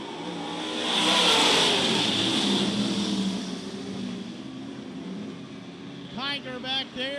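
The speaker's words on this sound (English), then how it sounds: "A couple fast cars on the front row of our final Topless modified heat race." Topless modified race cars roar past during a heat race at Charleston Speedway, a loud engine drone that swells early, then holds steady, with some high chirping sounds near the end.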